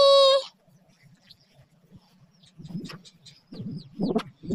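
Scattered bird chirps and short calls ring out at moderate distance in a Dubai park over faint background rustle, following a brief high whistle-like tone at the start.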